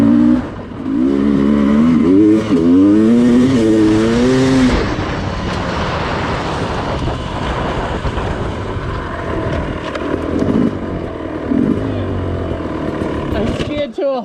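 A Sherco dirt bike climbing a hill in second gear, its engine revving loud and close with wavering pitch as it pulls, then easing to a steadier, quieter drone before cutting out near the end.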